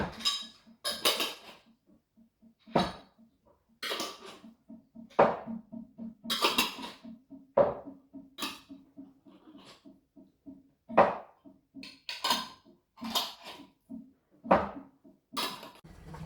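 Glass canning jars are capped with sharp glassy clinks and metallic clacks ringing out one after another in an irregular series, close by, with quiet pauses between them.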